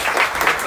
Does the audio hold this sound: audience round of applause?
yes